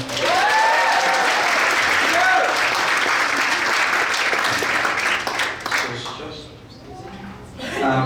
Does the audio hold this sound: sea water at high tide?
no